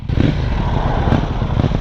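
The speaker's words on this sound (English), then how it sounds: "Listen to that exhaust though." A KTM 790 Duke naked motorcycle's exhaust gives a loud, close, low rumbling drone that holds steady for under two seconds.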